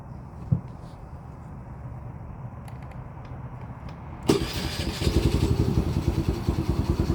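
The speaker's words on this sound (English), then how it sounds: "the bike hasn't started all day, so hopefully it fires right up" A Honda Navi motorcycle is started: a quiet idle background, then the small engine catches abruptly and settles into a steady, close, pulsing idle.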